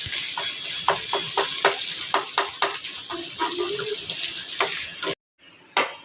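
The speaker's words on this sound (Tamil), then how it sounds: "இது இப்போ வந்து நம்ம ஒரு பொடி மாஸ் மாதிரி நம்ம நல்லா மிக்ஸ் பண்ணணும்" Scrambled egg podimas gets stirred in a pan over a low flame, with a quick run of close, rhythmic scraping and tapping strokes over a soft sizzle, ending in a brief silence and a last scrape.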